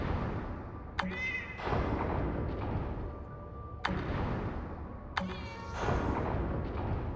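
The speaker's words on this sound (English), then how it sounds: "that is Lux meowing, doing all of this" Cat meows from an Easter egg in the video game Lightmatter, three sharp clicks each followed by a drawn-out meow, spaced a few seconds apart over a steady rushing ambient background, with no talk.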